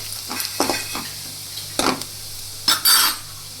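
Garlic sautéing in a pan with cumin and asafoetida, a close sizzle broken by several scraping stirs of a spoon against the pan.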